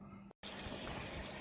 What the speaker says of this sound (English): these are just being rinsed in cold water